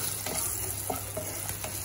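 Tempering spices with a pinch of asafoetida frying in hot oil for a jowar poha dish, giving a steady close sizzle with a few soft stirring scrapes, alone and without any voices.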